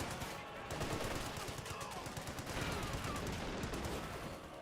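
Rapid bursts of MP40 submachine-gun fire from German Stormtroopers in the World War II strategy game Company of Heroes 2, dense overlapping battle gunfire rattling continuously at low volume.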